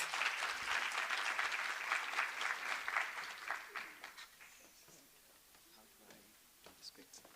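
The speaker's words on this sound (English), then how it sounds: "Let's give Muzi a round of applause." An audience at a young entrepreneurs' event breaks into dense applause for the next speaker, loud at first and then gradually thinning into a few scattered claps as the clapping dies away.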